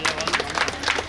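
A quick burst of dense clapping from an audience at a prize giving during a Chithirai temple festival in Kavvur, Ramanathapuram, loud and close throughout the brief moment.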